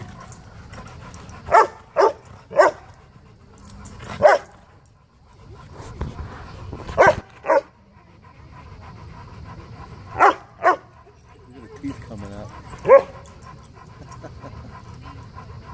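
A Rottweiler and a German Shepherd play-fight, body-slamming each other, with heavy panting throughout and several sharp, loud barks and yips in bursts, close by, with no talking.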